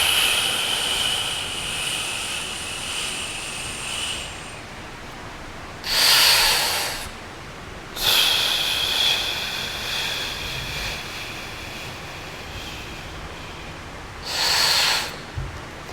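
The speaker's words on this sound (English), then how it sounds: "and exhale" Breath exhaled under a braced core, slow controlled breathing; three short broad bursts of airy breath noise stand out over a steady hiss, spaced a couple of seconds apart and fairly close.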